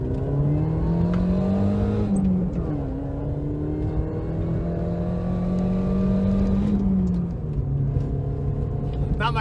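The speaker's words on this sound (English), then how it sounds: "John Cooper Works exhaust with one of the mufflers cut off, and it just gives this thing the perfect loudness, the perfect tone" A 2005 Mini Cooper fitted with a John Cooper Works exhaust, one muffler cut off, pulls hard under acceleration. The engine note climbs, dips briefly at a shift, then rises again in a loud, steady drone close to the listener.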